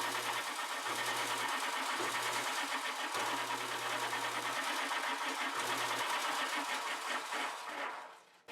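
A 9-inch disc sander, switched by a momentary foot switch, runs as a steady whirring motor hum, with a low tone cycling on and off in short bursts and the motor winding down at the end.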